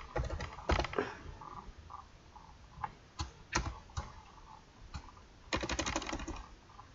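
Keys clatter on a computer keyboard in irregular bursts of close, crisp clicks, with dense flurries near the start and end and scattered single taps between.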